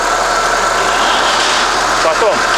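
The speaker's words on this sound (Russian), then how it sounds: "Все, запускаем двигатель." A car engine runs at a steady idle after a start, a continuous low drone with a faint rattle, heard up close with no talk over it, while an engine decarbonizing treatment is being done.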